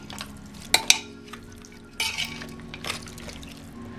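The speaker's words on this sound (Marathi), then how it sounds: "आता मुंडीमध्ये मीठ मी व्यवस्थित मिक्स करून घेते" Salt and water get stirred into a goat head in a pressure cooker, a wet sloshing and scraping from a spoon with two sharp metallic clinks early on, then quieter liquid stirring.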